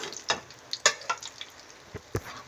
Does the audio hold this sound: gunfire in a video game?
no